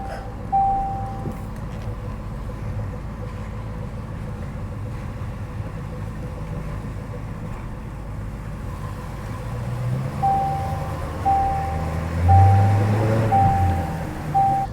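Jaguar F-Type SVR on the move after an engine replacement, heard from inside as a steady low engine and road rumble with a faint repeating beep and a swell of engine noise near the end, with no talking.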